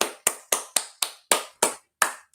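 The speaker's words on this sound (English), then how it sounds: "Slow clap, man." Eight slow, deliberate hand claps spaced roughly a third of a second apart, each a sharp, close, crisp smack with a short decay, no voices in between.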